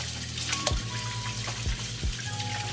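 Raw chicken washed under running tap water, a steady splashing flow with occasional sloshing bumps from handling the meat, close and moderately quiet with no speech.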